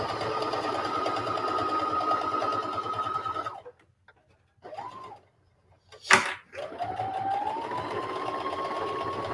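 A sewing machine stitches a patchwork bag made from old blue jeans and scraps, running in a steady close whir, stopping, making a short back-stitch run, then a sharp clunk before the motor picks up again.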